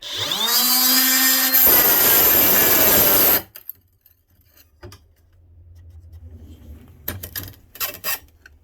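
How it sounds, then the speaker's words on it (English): A Ryobi 18V One+ HP cordless cut-off tool spins up to a loud, high whine and cuts into tile for a few seconds. It then stops abruptly, followed by faint handling clicks and scrapes. "Now we're gonna put the guard right against the tile, and then we'll start cutting."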